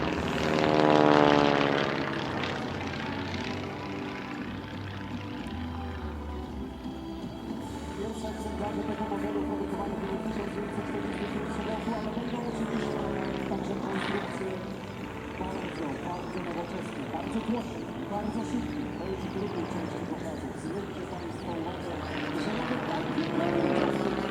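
An ex-US Navy Stearman biplane performs at an airshow in Leszno, its radial propeller engine droning and shifting in pitch as it passes and maneuvers, a steady roar with a narrator talking over it.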